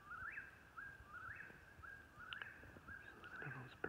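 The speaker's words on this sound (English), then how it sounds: "Listen to those birds." Birds sing at night under a full moon, faint repeated rising whistles in a steady rhythm with a few scattered chirps over a quiet background.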